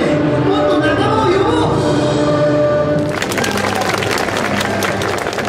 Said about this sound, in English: When visitors clap their hands, the images change